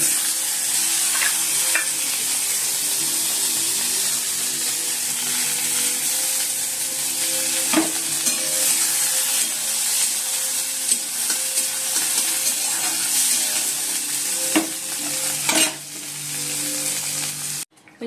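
Bitter gourd frying in oil with mustard seeds and fenugreek for shukto, a steady loud sizzle running throughout with occasional sharp clicks of a spatula stirring against the pan.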